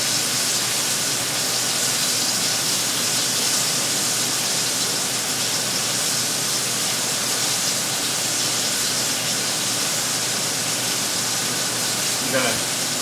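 Salmon sizzling steadily in a carbon steel skillet on a turned-down burner, a constant loud broadband hiss with no breaks, running evenly the whole time.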